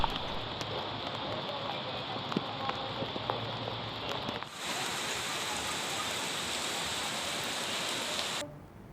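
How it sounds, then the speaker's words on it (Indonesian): Heavy downpour over a town in Pangkep Regency, Indonesia, a steady dense roar of rain that grows louder and fuller partway through, then cuts off abruptly near the end. "Hujan deras selama 2 jam membuat kota Kabupaten Pangkep dilanda banjir."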